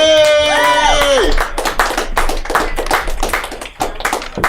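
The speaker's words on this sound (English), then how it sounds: "give him a round of applause" A live comedy show audience claps for a comedian after a brief whistling tone. The applause is a steady patter of many hands, with voices mixed in.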